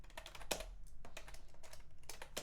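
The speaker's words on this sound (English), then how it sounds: "I'm typing around my coffee." Rapid typing on a computer keyboard clatters close by in an irregular run of soft key clicks, with no voices over it.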